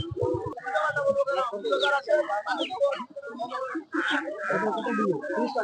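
Chickens and ducks at a village poultry market, with scattered clucks and squawks mixed into a busy crowd of nearby voices and bargaining chatter throughout.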